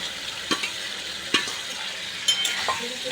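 Prawns frying in masala sauce as a spoon stirs them, a continuous sizzle broken by three or four sharp scraping knocks against the pan, close and fairly loud.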